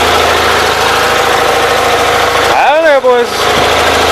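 A carbureted four-wheeler engine idles steadily close by with an even, continuous mechanical hum, while someone speaks briefly over it near the end.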